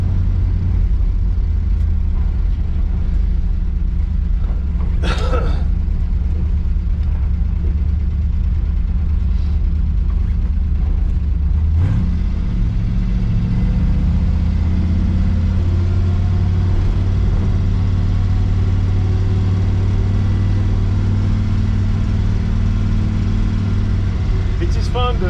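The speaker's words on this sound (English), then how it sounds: "I built an exhaust system for it all the way back, put duals on it. It sounds pretty good." A rat rod's engine rumbles through a custom dual exhaust, idling low and steady then rising into a deeper, fuller revving drone midway that holds loud and continuous.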